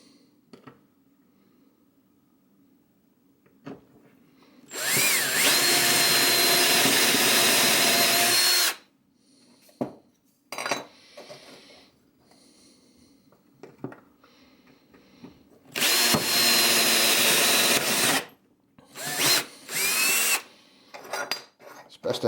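Power drill cuts countersink holes using a micro stop during a Pfaff 230 sewing machine repair: two sustained, loud whirring bursts of a few seconds each, separated by clatter and handling noises.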